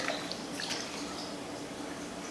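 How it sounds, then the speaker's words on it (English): Milk poured into a bowl of sifted dry pancake ingredients, a soft steady liquid trickle and splash held at an even level for a couple of seconds, close by and without speech. "I'm gonna pour my milk in here."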